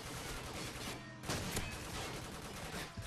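Light machine gun fire in Call of Duty 4 roars in dense, continuous bursts, loud and close, with a brief dip partway through before the rapid shots resume.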